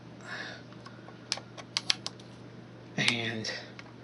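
Scissors snip off excess material on a steampunk craft project: a few sharp, close clicks spaced through the middle, followed by a short stretch of talking.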